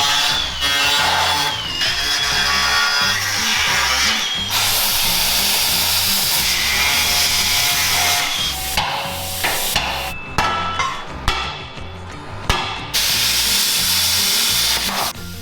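Power tools cut and grind off cross members from a vehicle frame, a loud continuous grinding whine near the mic that turns into choppy bursts, knocks and metallic clanks toward the end.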